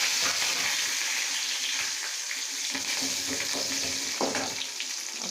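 Mustard seeds, onion and curry leaves fry in hot oil, giving a steady, close sizzle with soft crackles and the odd scrape of stirring running throughout.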